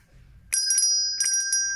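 Bicycle-style bell rung twice as a subscribe reminder, two bright sustained rings with a shimmering metallic tone, loud and close with no talk over it.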